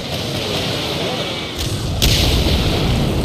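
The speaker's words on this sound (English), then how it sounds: "Seems like a Nebelwerfer." Nebelwerfer rocket artillery fire in the video game Medal of Honor Allied Assault, a steady loud rushing roar with a couple of sharp blasts partway through, near and dense.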